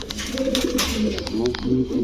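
Pigeons coo steadily at a pigeon market selling racer and fancy birds, overlapping throaty calls continuing throughout, with faint crowd noise behind.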